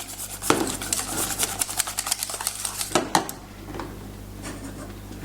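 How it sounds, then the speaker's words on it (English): A whisk or spoon scrapes and clatters against a pot while mixing a mornay sauce, in quick irregular metallic strokes, close and fairly quiet, with a couple of sharper knocks. "Give it a real good mix."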